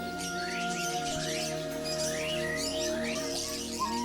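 Caged songbirds at a Hong Kong bird market sing repeated rising whistles and chirps over a constant bed of tonal hum and market ambience.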